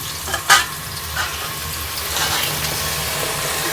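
Cauliflower tipped into a hot pan of tomatoes frying for pav bhaji, a sharp splash and then a steady sizzle with stirring scrapes, close up and without talk.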